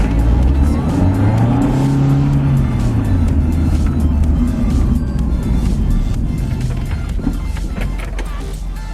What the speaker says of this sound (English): Sounds like the supercharger is getting used at least.